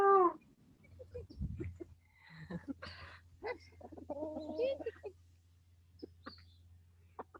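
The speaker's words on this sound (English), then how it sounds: "these are our yard chickens here" Yard chickens on a family farm, fed kitchen scraps, make soft close clucks and chirps in short irregular bursts, with quiet talk and a low steady hum underneath.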